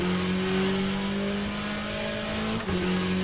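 A racing car in a sim racing game driven with a Cammus C12 direct-drive wheel revs hard, its engine holding a loud, steady, buzzing tone that drops briefly at a shift before climbing again.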